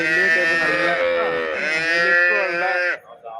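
A cow lets out one long, loud, drawn-out moo close by, lasting about three seconds before cutting off.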